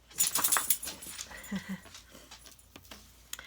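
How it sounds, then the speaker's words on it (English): A pet dog whimpers softly and close by, with a few short high whines and some snuffling breaths, fading toward the end. "Had to get some lovin's in for my pup."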